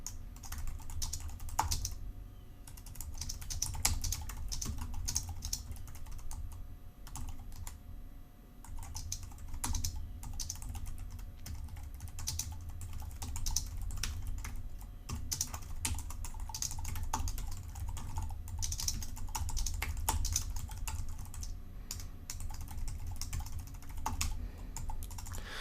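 Code being typed on a computer keyboard, a steady stream of close, crisp key clicks with brief pauses throughout.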